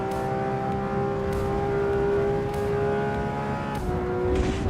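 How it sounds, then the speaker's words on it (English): A Porsche 992 GT3 RS engine in a racing game holds a steady high-revving drone with a faint gear shift near the end, loud and continuous with no talk. "Yes, I'm driving it. This is the Porsche 992 GT3 RS."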